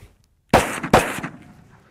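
Two sharp, loud pistol shots from a Sig X-Ten 10mm fired in quick succession less than half a second apart, each with a brief echoing tail fading into near silence.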